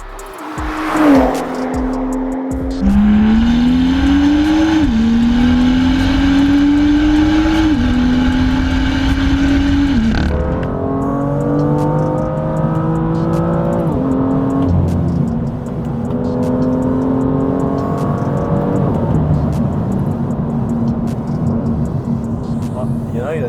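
BMW M2 Stage 2 tuned to 428 hp accelerating hard, the engine note climbing through repeated gear changes at close range, loud and continuous with a roar at launch.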